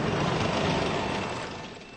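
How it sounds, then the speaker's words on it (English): Tank engines roaring through Baghdad city streets in 2003, a dense broadband rumble that holds loud and then slowly fades over two seconds. "The roaring sound of tank engines resounding around the city's streets."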